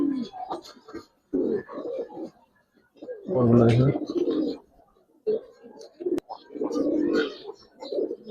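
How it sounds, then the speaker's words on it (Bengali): Giribaz pigeons in a loft coo in several low, throaty bursts near the listener, while someone talks in between and over them. "এই যে দেখেন কবুতরগুলো"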